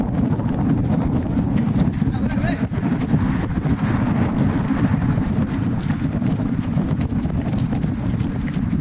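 A ridden horse's hooves clip-clop steadily during a riding session, with continuous wind buffeting the microphone and a voice speaking at times over the hoofbeats.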